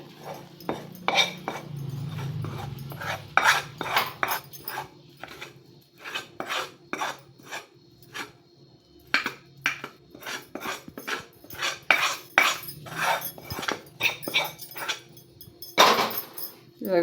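Hot barfi mixture is scraped from a pan onto a ghee-greased plate with the stove off: a close, steady series of metallic scrapes and clinks of a spoon against cookware, running almost without pause.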